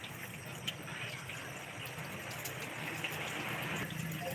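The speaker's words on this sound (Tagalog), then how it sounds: "may problema na sa gasket kaya tuloy-tuloy siya ng tubig" Water running continuously from a pump with a leaking gasket, a steady broadband gushing hiss that stays constant and fairly close throughout, with no pauses and no voices.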